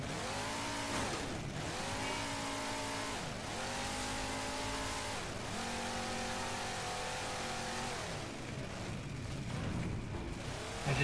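The Warthog vehicle's engine in the Halo 4 video game revs and drones continuously. Its pitch rises and falls in repeated sweeps as it accelerates and eases off. The engine is loud and sits over a busy game background, with no talking.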